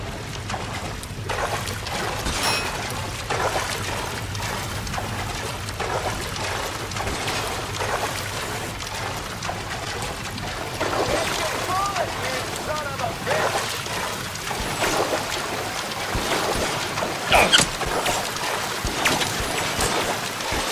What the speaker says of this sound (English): The water's rising.